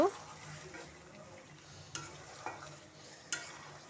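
Beef and moong dal curry stirred in a pot over a low flame, with a faint low simmer and a few soft, scattered scrapes and knocks from the spoon.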